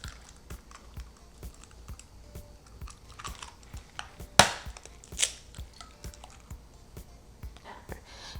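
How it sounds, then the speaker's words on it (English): Two eggs cracked into a mixing bowl in a kitchen: a steady run of light taps and clicks, then two sharp, close cracks a second apart, followed by softer tapping. "we're gonna go ahead and crack 2 eggs into one of the mixing bowls"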